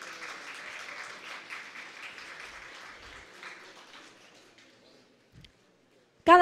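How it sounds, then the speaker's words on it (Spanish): Applause from the audience at a regional final of a national oratory contest in Darién, a broad steady patter of clapping that thins out over several seconds and fades to near silence before a sudden loud bump at the end. "Fuerte el aplauso para los organizadores"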